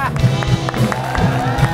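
A room full of people claps steadily to welcome a young 17-year-old guest onto a comedy talk show set, with dense, continuous applause and voices mixed in.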